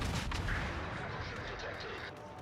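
A warship's gun volley booms in the World of Warships naval video game, a short burst of heavy firing that fades over about two seconds.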